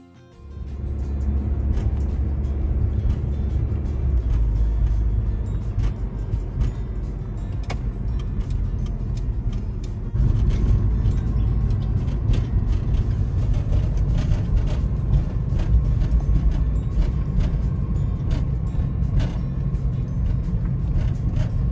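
Steady road noise from a car on a test drive, a continuous low engine and tyre rumble heard from inside the cabin, with a slight lift in level partway through and no talking.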